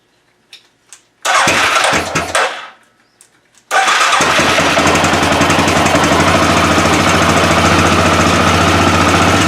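An Arctic Cat 500 ATV engine cranks and sputters briefly, falls quiet, then fires up and runs steadily at a loud, close idle with a rough, even drone.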